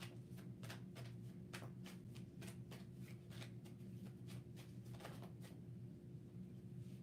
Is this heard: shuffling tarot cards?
yes